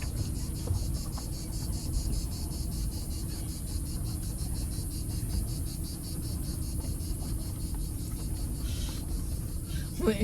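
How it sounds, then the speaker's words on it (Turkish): Crickets in the countryside of a Sakarya village in Turkey keep up a steady, rapid pulsing chirp throughout, set against a constant low rumble of outdoor background noise. "Cırcır böceği yatıyor."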